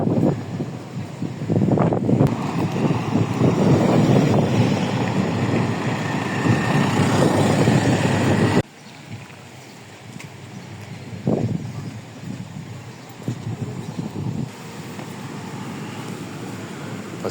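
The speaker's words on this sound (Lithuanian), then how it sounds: "Truputį vėjas toks, tai nėra labai šilta, aišku." Wind blows outdoors on a chilly day while sightseeing in Latvia, buffeting the microphone with a loud, steady roar for the first half. It drops to a softer, gustier rush afterward, with occasional brief surges.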